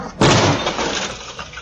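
A car speeding down a residential street in Chicago slams into the back of a parked vehicle. One sudden loud impact with shattering glass is followed by a short, clattering decay.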